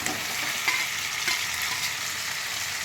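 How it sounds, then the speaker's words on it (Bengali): Pointed gourd (potol) hits hot spiced oil with a steady, close hiss of frying, a few soft stirring knocks breaking through the even sizzle. "এবার আমি পটলগুলো দিয়ে দিচ্ছি"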